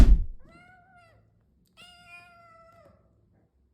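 A cat gives two distinct meows, the second longer and higher, clear and close against a quiet background with soft thumps at start and end.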